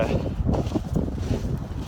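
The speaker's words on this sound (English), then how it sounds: "A little windy. Didn't think it'd be this windy." Steady wind buffeting the microphone, a low rumbling roar that gusts and swells throughout without pause.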